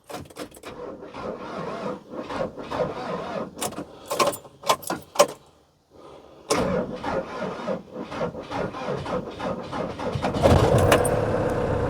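A car engine cranks in a run of uneven, scraping starter bursts, falls silent for a moment, then catches and settles into a steady idle that grows louder near the end.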